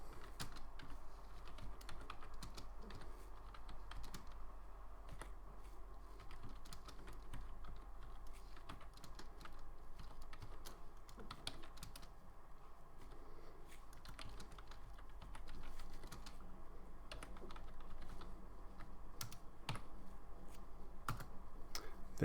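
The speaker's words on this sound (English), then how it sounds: "When you reach the end of a line, press the Enter key on the keyboard to move down to a new line" Steady typing on a computer keyboard, with continuous close key clicks and occasional sharper taps, no voices.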